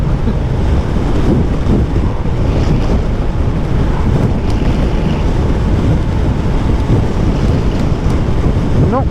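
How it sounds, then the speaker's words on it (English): Strong wind roars and buffets steadily for the whole stretch, a loud, dense rumble with gusty low-end blasts and no voices. "It's pretty windy up here, as you can probably hear"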